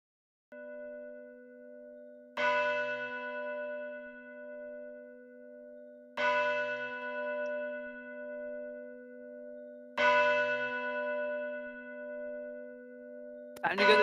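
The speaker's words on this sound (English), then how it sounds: "it's basically the meeting bell of the lieutenants" A church-like meeting bell in a tabletop role-play sound effect strikes three clear, resonant tolls spaced about four seconds apart, each ringing out and decaying over a sustained tonal drone, with a fourth strike just beginning at the end.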